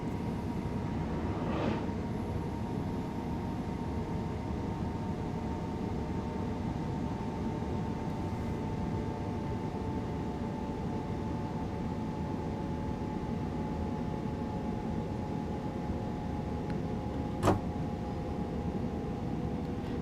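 A Southern Class 313/377 electric train on the East Coastway line approaching Falmer in the Train Sim World 3 simulator hums and rumbles evenly as it coasts to slow down, with one sharp click near the end.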